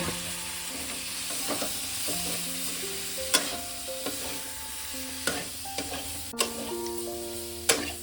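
Boiled figs, mashed potato and chickpeas sizzle in a frying pan under a steady hiss, with repeated sharp clacks of a spatula stirring and scraping the pan at irregular intervals, heard up close.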